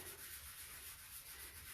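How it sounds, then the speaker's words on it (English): Steady, soft abrasive rubbing of a 220-grit sanding pad moving back and forth over a vinyl stencil on a painted sign in a slow, continuous rhythm, close up, with no talking. "this is a 220 grit sanding pad from Dixie Belle."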